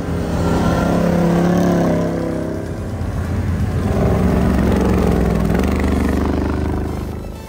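The ChugZilla all-terrain vehicle, with a 403-horsepower engine, revs loud and close. The steady roar swells, dips slightly in the middle, then builds again before easing off.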